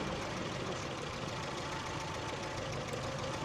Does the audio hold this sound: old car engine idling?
yes